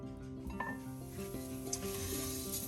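Rice toasts in a hot pan in a home kitchen, giving a steady soft sizzle with occasional stirring scrapes and light clinks of a utensil against the pan, close and continuous.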